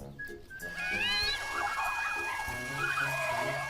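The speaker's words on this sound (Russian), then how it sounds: "Это, наверное, радиоуправляемая скорая помощь." A toy radio-controlled ambulance in a virtual pet kitten game sounds a synthetic siren with rising and warbling electronic tones over a soft game music bed, steady and fairly close.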